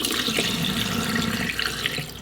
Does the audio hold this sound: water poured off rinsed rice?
yes